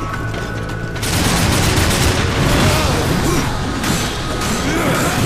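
Dense pistol gunfire and crashing combat effects from the action game Darksiders 2, loud and continuous after a brief quieter opening, with rapid repeated shots layered over game music.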